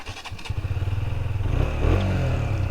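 A motorcycle idles with a steady low rumble, then throttles up and pulls away, the engine note rising and louder close by.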